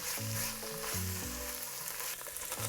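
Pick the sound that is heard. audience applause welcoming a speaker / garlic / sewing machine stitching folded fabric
garlic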